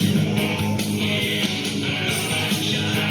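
Electric guitar playing a part, a dense, loud, continuous strummed riff with rhythmic accents.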